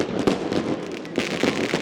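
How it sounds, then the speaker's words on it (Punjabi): Fireworks burst over Sri Darbar Sahib during a Prakash Purab celebration, with a steady run of crackling pops and several sharper bangs mid-range, fairly close and continuous, with no voices. "ਆਤਿਸ਼ਬਾਜ਼ੀ ਦਾ ਅਦਭੁਤ ਨਜ਼ਾਰਾ ਆਤਿਸ਼ਬਾਜ਼ੀ ਸ਼ੁਰੂ ਹੋ ਚੁੱਕੀ ਹੈ"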